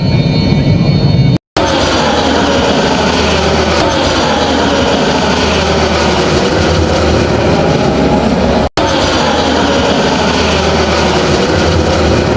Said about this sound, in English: Do not miss the flanker landing right in front of you.